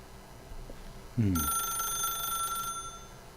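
Telephone ringing in the video game The Stanley Parable, a steady electronic ring of stacked bright tones starting abruptly and holding for about a second and a half over a quiet game ambience, after a brief low thump.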